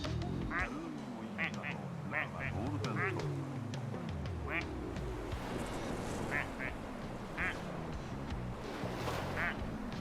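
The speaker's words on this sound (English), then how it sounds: "Maybe these ducks make different noises." Rubber ducks quack over and over in Plastic Duck Simulator, a busy stream of squeaky toy quacks layered over game music and a voice talking throughout.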